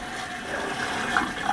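Water runs down into an RV toilet, a short, steady gushing flush heard close up, with a few splashes near the end.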